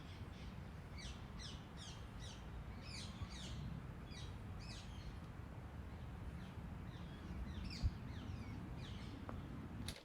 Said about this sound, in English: So I was listening to the birds tweeting.